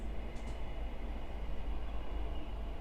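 A passing train rumbles as a steady, low, broadband roar that stays constant for a few seconds, fairly distant and without voices.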